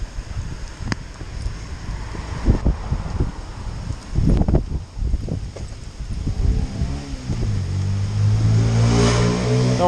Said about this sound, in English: Just a motorbike. Not a very big one at that either.